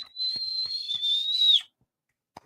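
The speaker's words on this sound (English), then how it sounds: "Whistling into the microphone is okay" A person whistles one long, steady, slightly wavering tone into a microphone on a live show, close and clear, with a few soft taps underneath, then silence and a brief click.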